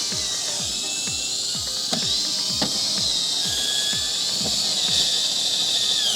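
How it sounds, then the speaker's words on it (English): A hand ratchet torques down the screws on a Porsche Macan high-flow intake duct on a workbench, giving a rapid series of close clicking strokes, roughly a dozen evenly spaced over a steady background hiss. "all we have to do is simply torque these down"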